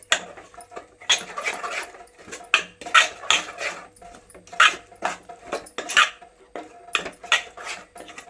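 Onion and carrot idli batter stirred with its ingredients in a bowl, giving uneven bursts of close, wet scraping and slapping strokes with short pauses between them.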